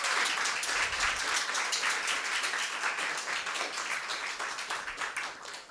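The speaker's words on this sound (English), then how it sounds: "let's just do one more round of applause for our debaters." An audience applauds school debaters at a debating competition, dense sustained clapping that stays strong at first and then slowly thins and fades toward the end.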